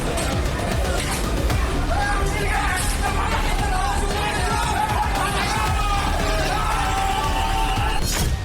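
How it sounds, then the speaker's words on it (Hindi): A crowd yells and screams continuously during a violent attack with sticks on people in Bangladesh. Dense, loud overlapping cries and shouts carry through the whole stretch, with sharp impacts mixed into the chaos. "इसके बाद वीडियो में सिर्फ लाठियों की आवाज और चीखें सुनाई।"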